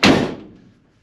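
A Ford Econoline E150 van door with a sprung, bent frame is shut once with a loud, close slam, and its heavy thud rings out and fades within about half a second.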